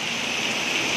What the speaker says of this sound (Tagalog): parang natural man na ulan